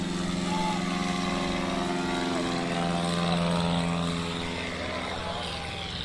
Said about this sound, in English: This is the 1955 Cessna 180 that's just absolutely beautiful.